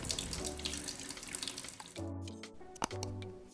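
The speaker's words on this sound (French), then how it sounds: "je vais rincer tout de suite après." Water runs steadily from a tap while Shikakai powder is rinsed from wet hair, a continuous splashing flow with a few short interruptions and drips, close and fairly quiet.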